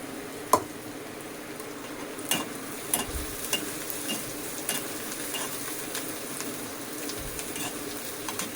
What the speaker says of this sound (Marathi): लालसर भाजून घेऊ कांदा.